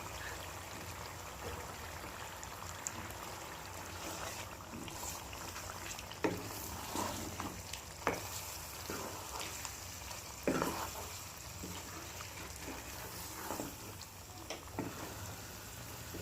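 Pieces of buffalo beef sizzling and bubbling steadily in an oily karahi pan on the stove, a continuous close hiss with scattered small pops and spatters.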